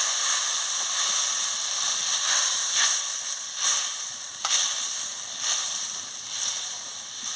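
Water poured into a hot pan of oil with turmeric powder, bursting into a loud, steady sizzle and hiss with rhythmic surges as it bubbles, close and with no voices.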